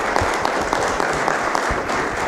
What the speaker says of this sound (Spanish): Un fuerte aplauso, por favor, a don Ignacio.